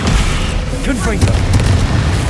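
A Confringo fire blast spell explodes in Hogwarts Legacy, a heavy booming burst amid ongoing combat noise, with a voice calling out near the start.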